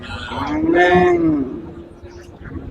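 A Friesian cow lets out a single loud, drawn-out moo nearby, rising and then falling away, with faint background murmur.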